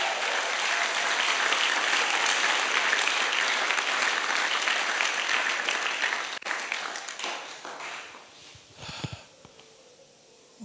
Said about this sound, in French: acclamez pour vous-même